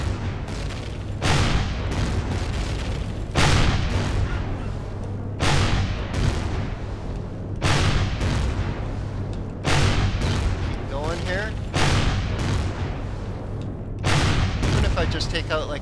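Spaceship guns in Empyrion Galactic Survival fire in regular heavy bursts roughly every two seconds, booming and loud, with someone talking in between volleys.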